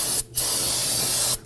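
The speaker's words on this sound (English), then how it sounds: "I'm going to go ahead and spray this down with solvent to clean up all that brake fluid." Solvent sprays onto a brake line of a 2018-2024 Toyota Camry during a front brake hose replacement: a short loud hissing burst, a brief pause, then a longer steady close-up spray that cuts off.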